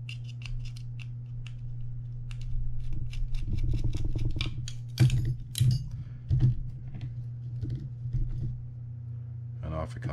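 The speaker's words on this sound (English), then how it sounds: "To do so, you need to remove these two screws here." Screws are backed out of the click mechanism on a Shimano TLD20 two-speed fishing reel, giving small close metallic clicks and scraping bursts in uneven clusters over a low steady hum.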